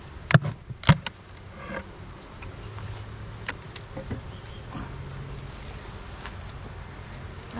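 Honey bees buzz around backyard hives, a steady soft drone with a couple of louder close passes near the start, outdoors with no talk.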